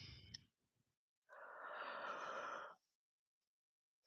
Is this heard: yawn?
yes